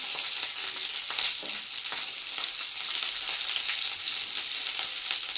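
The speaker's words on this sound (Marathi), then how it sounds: "आता हे आपण एकत्र परतून घेऊया." Grated coconut sautéing with garlic and ginger in a hot pan gives a dense, steady sizzle with faint stirring scrapes, close and loud with no voices.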